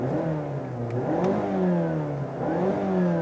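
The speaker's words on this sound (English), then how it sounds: "push this button here to fire up the engine" A 2018 Mazda3 GT hatchback's 2.5-liter direct-injection four-cylinder engine running and revving, its pitch rising and falling through a couple of gear changes, with a steady medium hum underneath.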